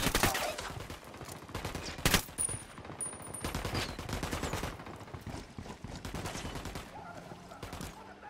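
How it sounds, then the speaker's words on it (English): Gunfire in Ghost Recon Wildlands, with close, loud bursts of automatic fire and single cracks rattling almost continuously through a firefight. "Opening fire on these fuckers."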